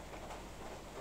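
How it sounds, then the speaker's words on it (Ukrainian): Rain beginning to fall outdoors near a garden, a faint, even hiss of drops over a brief moment with no voices. "Дощ пустився."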